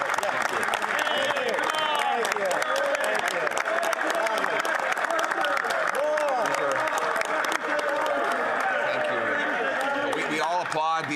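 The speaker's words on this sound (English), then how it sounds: "applaud the NDP leader" Members of Canada's House of Commons applaud the NDP leader in a sustained, dense burst of clapping, with voices and chatter mixed through the crowd noise at steady loudness for the whole stretch.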